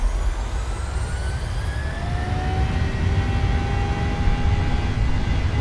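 Jet2 airliner jet engines spooling at takeoff power, a loud continuous roar with rising whine tones steadily climbing in pitch over a heavy low rumble, no voices.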